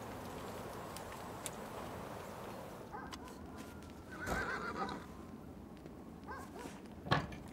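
A horse whinnies at close range amid quiet ambient noise, with a few hoof clops and a short loud snort or knock near the end.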